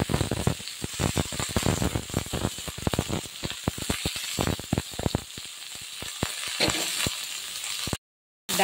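Chopped vegetables with spinach and beans sizzle in a hot pan, a dense crackling hiss broken by sharp clinks and stirring scrapes, loud and close with no talk.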